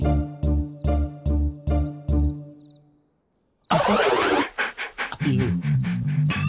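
A dog pants in rapid, loud, rhythmic bursts close by, about six quick breaths, then a pause before a sudden burst of clattering, engine-like noise and scuffling.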